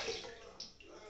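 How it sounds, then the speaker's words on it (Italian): Hot water runs and splashes in a bathroom sink during rinsing, a steady close wash of water with a brief brighter splash midway, quiet overall. "allora mi sciacquo un attimo. Finché ho l'acqua calda nel lavandino."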